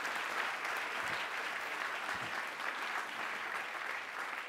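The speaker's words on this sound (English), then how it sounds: "a round of applause for our panel" A panel discussion audience claps in sustained, even applause for the panelists, a continuous wash of hands heard at moderate distance without talk.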